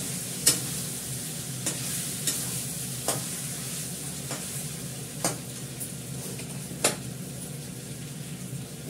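Mutton being stir-fried in oil, a steady close sizzle with periodic sharp scrapes and clinks of a spatula against the pan roughly every second or two, no voices.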